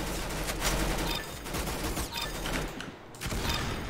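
Video game gunfire crackling in rapid bursts of shots, loud and dense, with brief pauses between volleys and no talk over it.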